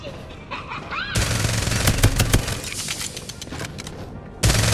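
Bursts of automatic gunfire in the battle royale video game Farlight 84, loud rapid volleys that start abruptly, pause, and resume near the end, with faint game sounds before the shooting.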